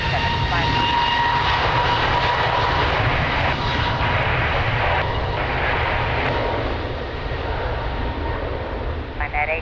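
An airliner powers up for takeoff on runway 02 at Lisbon Airport, a loud sustained jet engine roar with broad rushing noise that holds steady throughout, alone without talk.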